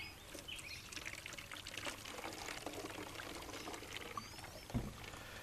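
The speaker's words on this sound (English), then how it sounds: "we're going to fill the container half full with water" Water pours into a garden sprayer container in a continuous, soft, hissing splash with a faint bump near the end.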